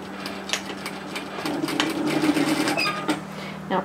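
A sewing machine stitches the long underarm seam of a puff sleeve top, running close and continuously with a fast rattling needle rhythm for a few seconds.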